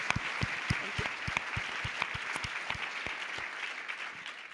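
Sustained applause from an audience at a women's summit, a dense even patter of many hands with scattered sharper claps standing out, steady throughout.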